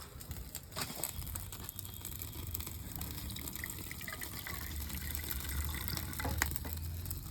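Milk being poured from a pot while making Nabadwip-style red sweet yogurt at home: a steady, soft liquid trickle runs for several seconds with a faint background hum.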